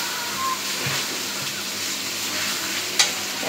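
Large pieces of chicken roast frying in a pan while being stirred, a steady close sizzle with scraping and a sharp clink near the end.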